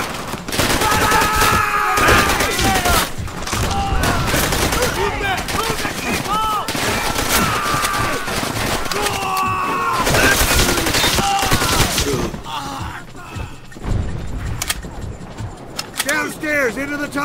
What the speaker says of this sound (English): Open fire! Miller, man that MG!